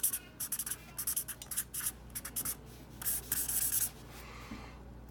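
An Amazon Basics permanent marker scratching across paper in quick, rhythmic strokes and squeaks, close and clear, with a brief pause near the end.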